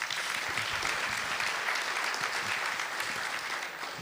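A conference audience applauds, a dense, even patter of many hands clapping together at moderate distance, sustained for a few seconds before easing slightly.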